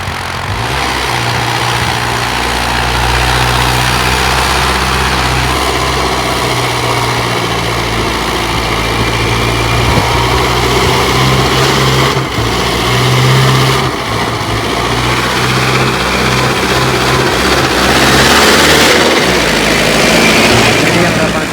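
A Mahindra 655 CRDI tractor engine with a 25 hp upgrade runs continuously at a steady idle, loud and close, with a deep diesel rumble throughout. Someone talks over the engine.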